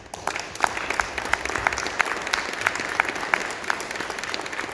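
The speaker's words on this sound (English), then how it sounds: "So let's get a round of applause for her." Audience at a regional stand-up work meeting claps steadily for several seconds, a dense, even round of applause from a small-to-medium group with no talking over it.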